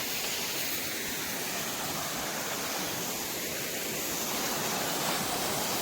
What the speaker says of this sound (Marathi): पाहू शकता तुम्ही आता आलेला आहे धबधबा.